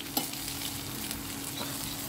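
Food fries in ghee for a ghee roast, a constant close sizzle with a low hum beneath and a single light clink of a utensil.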